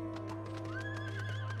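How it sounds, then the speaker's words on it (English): Horse neighing in the Final Fantasy XIV video game: a single loud, rising whinny over steady game music, with faint clip-clop hoofbeats under it. "Horsey."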